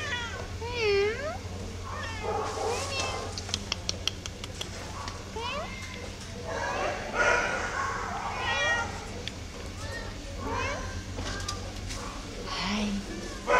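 Cats at a rescue shelter meowing several times, high and close, mixed with people talking and cooing at them and faint bird chirps in the background.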